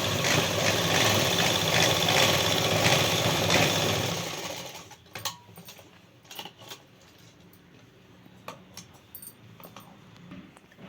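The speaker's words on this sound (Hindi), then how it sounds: "अभी दूसरे आसन की दोनों आसन एक साथ सिलाई होगी।" A sewing machine runs steadily while stitching two seat pieces of a pair of trousers together, then stops partway through, leaving scattered clicks and small handling knocks.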